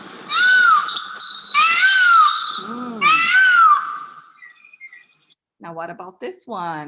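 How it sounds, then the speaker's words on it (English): A peacock's loud, wailing calls ring out in three drawn-out bursts, followed by a brief burst of speech. "It's the peacock, right? The peacock."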